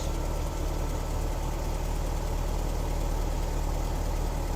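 1973 VW Squareback Type 3 engine idles steadily up close, a constant low rumbling drone with even vibration and no other sounds.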